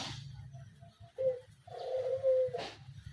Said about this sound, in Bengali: আজকে একটা নতুন আকর্ষণ আনলাম, অস্ট্রেলিয়ান ঘুঘু।